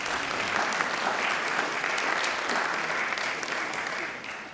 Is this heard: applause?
yes